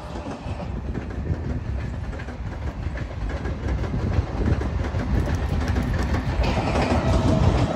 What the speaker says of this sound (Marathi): ही लोकल ट्रेन आहे.